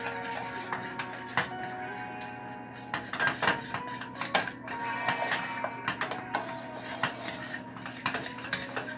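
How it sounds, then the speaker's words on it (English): A spoon scraping and clinking against a pot on the stove while a Kool-Aid play-doh mixture is stirred, giving irregular metallic taps and scrapes over a steady low hum, with no talking. "you're really gonna need an adult to stir this on the stove like this"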